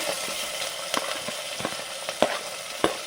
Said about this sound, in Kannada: ಈರುಳ್ಳಿ, ಕ್ಯಾಪ್ಸಿಕಮ್ಮು, ಕರಿಬೇವು, ಹಸಿಮೆಣಸಿನ್ಕಾಯಿ ಇದು ಸ್ವಲ್ಪ ಫ್ರೈ ಆಗಬೇಕು